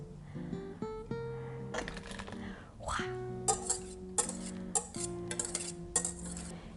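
Utensils scrape and clink against a smaller bowl set inside a larger one as baking ingredients are mixed, with repeated close taps over steady tonal background sound.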